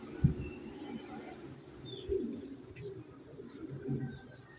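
Young pigeons coo softly in a loft, with faint chirps and a hint of wing flapping over a quiet background.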